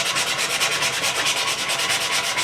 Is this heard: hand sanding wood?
yes